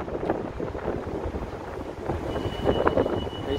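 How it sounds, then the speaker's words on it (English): Gusty wind buffets the microphone with low rumbling blasts, rising and falling, along with faint outdoor street noise on Michigan Avenue in downtown Chicago. "It's getting a little bit windy here on Michigan Avenue."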